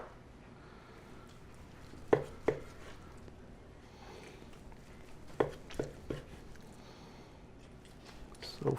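A knife cuts through a smoked beef brisket in a few distinct soft thuds and squishy strokes against a board, spaced out over otherwise quiet room tone with no speech.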